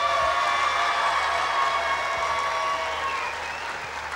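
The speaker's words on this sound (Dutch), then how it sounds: "jullie voor Super Rosmalen en voor SJV Rosmalen nu eens een echt gigantisch Brabants applaus moeten geven" A big crowd claps in sustained applause at a 1994 playback show with a circus, a steady close wash of hands with faint cheering mixed in, easing slightly near the end.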